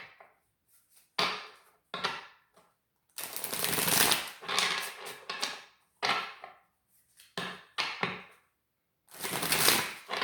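Tarot cards being shuffled up close in a series of crisp riffling bursts, some short and some long, separated by brief silences.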